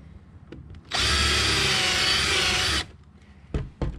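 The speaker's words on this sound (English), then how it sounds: "I like to take a Phillips head bit, and I'm going to use it on here, and we're just going to countersink" A power drill fitted with a Phillips head bit countersinks a hole during a skateboard light build, whining loudly in one steady burst of about two seconds, with softer handling knocks before and after.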